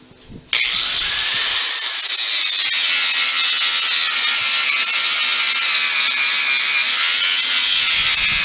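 Cutting tool of a metalworker biting into sheet metal, starting with a sudden loud whine that holds steady as a close, continuous high-pitched grind for several seconds.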